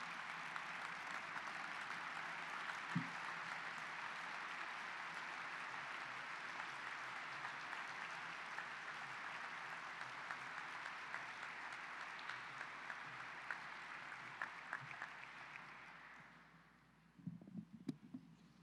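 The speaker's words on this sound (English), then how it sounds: "No, don't stop applauding." Long, steady audience applause at a dinner event, a dense even roar of clapping that holds for many seconds, then fades out abruptly near the end, leaving a few scattered sounds.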